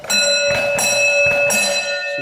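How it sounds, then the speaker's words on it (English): The foot-pedal bell on an 1898 Jeanperrin Vis-à-Vis car rings out in three or four bright, ringing strikes close up, each chime sustaining and overlapping the next. "Okay, this is the bell."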